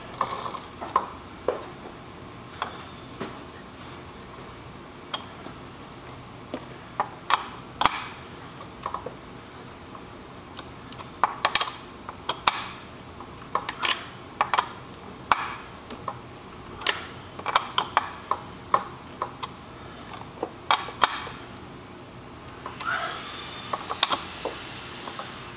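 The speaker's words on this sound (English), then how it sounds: "Put your 8mm in, start cranking it back down." An 8mm wrench tightens a bolt on a Magicycle Ocelot Pro e-bike, giving a long run of close, sharp ratcheting clicks and metallic taps in irregular bursts with short pauses.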